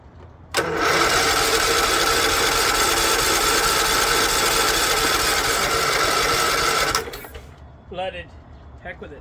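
Starter grinds a John Deere LT150 lawn tractor's engine, which has sat unused for years and is flooded; one loud, steady cranking run of about six seconds ends without catching, followed by faint handling noises.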